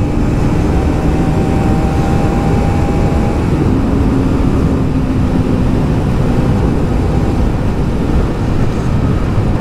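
KTM Duke 390 and Bajaj NS200 motorcycles racing: a loud, constant engine roar and rushing wind noise, close and unbroken, with brief rising engine tones.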